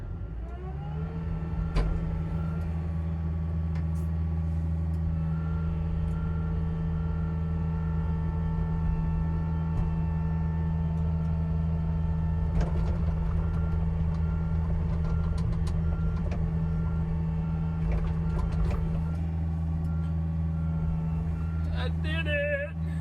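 A large diesel excavator engine runs steadily and loud, clearing tree roots outdoors, with a constant low drone and harmonic hum throughout, occasional clanks of the bucket, and a voice briefly over it.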